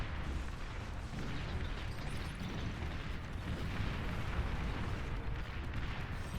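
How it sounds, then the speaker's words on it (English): Bombing run in the real-time strategy game Beyond All Reason: a dense, continuous barrage of rumbling explosions that blend into one loud, steady roar with no pauses. "But a bombing run comes in."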